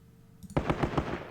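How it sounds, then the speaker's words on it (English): A heavy machine gun fires a short burst in the wargame Squad Battles Winter War: about five rapid, evenly spaced cracks after a brief click, fairly quiet and with no talk over it. "Wow, okay, this heavy machine gun."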